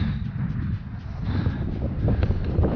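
Strong wind of about 45–50 km/h buffets the microphone on the snowy summit of Solunska Glava in Macedonia, a steady low roaring rumble with gusty swells throughout and no voices.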